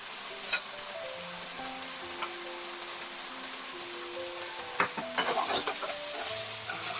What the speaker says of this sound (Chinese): 放入猪肝，略炒，点入少许老抽调色。 此刻放入葱绿部分，勾芡